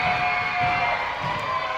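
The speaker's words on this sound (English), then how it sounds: "Sigma feeding off the crowd here, the energy of the crowd" A wrestling event crowd cheers in a short, steady burst of mixed shouting and whooping.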